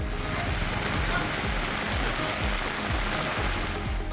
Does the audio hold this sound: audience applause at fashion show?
no